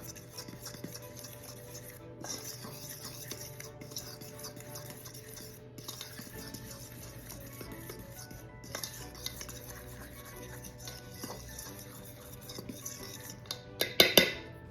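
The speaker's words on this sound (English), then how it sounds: "Dry ingredients. Let's mix them up." Dry ingredients mixed in a bowl with a utensil, a soft continuous scraping and stirring with light clinks, ending in a few louder knocks against the bowl's rim.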